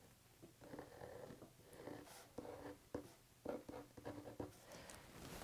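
A pencil or pen scratches out a tulip-in-a-teacup pattern outline on paper, making soft, intermittent strokes with short bursts and pauses, close and quiet, and no one speaks.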